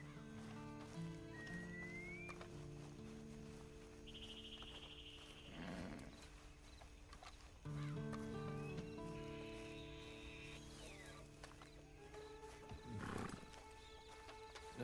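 Video game horse snorting and whinnying, with hoof clip-clops and rumbling animal calls, set against a low hum and steady background game ambience.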